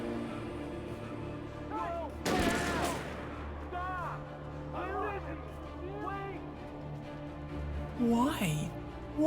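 Video game gunfire from police, with one loud sharp shot burst standing out and chirpy game effects around it, all under a steady voice talking.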